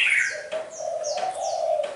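A red-whiskered bulbul, a fierce fighting bird, calls repeatedly up close: bright whistled phrases in a quick rhythmic series, clear and loud with no talk.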